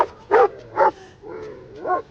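A dog yelps in pain, two sharp cries followed by softer whimpering whines, close and alone.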